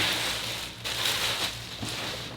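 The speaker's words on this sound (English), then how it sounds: "Get this out of the plastic bag." A First 4 Figures Elite Knight statue, Humanity Restored Edition, is pulled from its plastic bag, giving close, soft crinkling and rustling in short bursts with brief pauses.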